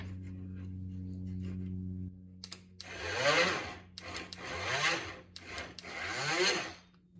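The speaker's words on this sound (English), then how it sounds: "I think I'll use the multi-tool for that." An oscillating multi-tool cuts off a protruding piece of dried wood filler while repairing a standup desk's keyboard tray. A low hum plays first, then three loud buzzing cutting bursts follow, each rising and fading.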